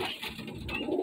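Pigeons coo softly inside a coop of net-caught birds, a low throaty murmur that swells and fades over a steady faint background hiss.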